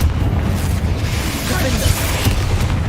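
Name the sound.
Confringo fire spell blast, from video game Hogwarts Legacy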